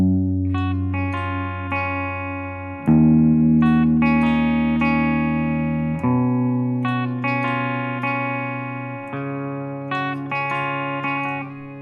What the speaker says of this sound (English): So the breakdown guitar here is the clean intro guitar.